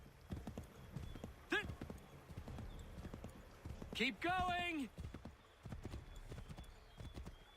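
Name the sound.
horse hooves galloping in video game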